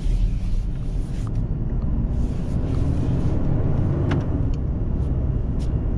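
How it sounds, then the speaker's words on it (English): A 2021 Ford Ranger EcoBoost pickup's loud clutch fan roars steadily under a dense, constant engine rumble, close and unbroken throughout with no talking. "Got a loud clutch fan."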